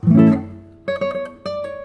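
Warm, soft-attack guitar notes plucked with the flesh of the thumb: a rounded low note, then several mellow plucked notes ringing in a gentle rhythm.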